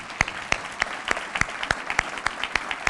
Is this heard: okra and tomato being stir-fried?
no